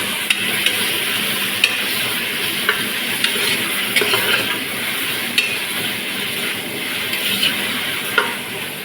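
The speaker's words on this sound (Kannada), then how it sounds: "ಸ್ವಲ್ಪ ಫ್ರೈ ಆದರೆ ಸಾಕು, ಮತ್ತು ಮಟನ್ ಒಂದು ಬೇಯ್ತದೆ." Mutton sukka with curry leaves frying in a pan, cooked in Karavali style, gives a steady close sizzle with scattered clinks of stirring throughout and no talk.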